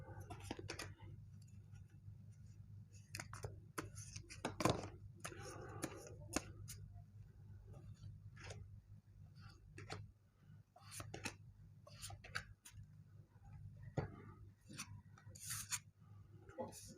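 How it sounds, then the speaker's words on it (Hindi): Tarot cards are shuffled and drawn, giving soft, close rubbing and riffling sounds with scattered light flicks and taps over a low, quiet background. "चलिए कार्ड ले लेते हैं हम लोग।"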